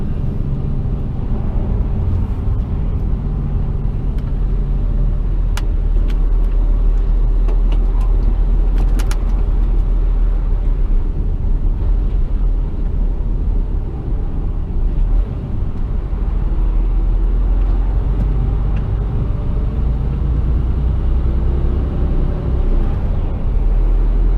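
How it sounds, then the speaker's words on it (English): Steady road traffic rumbles around an HGV container truck on a UK route, a continuous loud low drone of engines and tyres with occasional faint clicks, no talk. "More traffic coming in from the left there"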